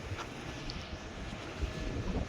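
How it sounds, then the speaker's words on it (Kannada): Wind turbine blades at a windmill site on a hilltop turn with a steady, faint whooshing hum like a fan, mixed with wind noise and no voices. "fan ತಿರುಗ್ತಿರೋಂಥ sound ಕೇಳಿಸುತ್ತೆ"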